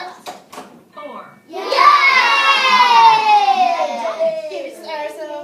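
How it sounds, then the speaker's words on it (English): A group of children cheer and shout together in a sustained, loud burst that rises quickly and holds for several seconds, with a few brief voices just before it. "Give ourselves a cheer."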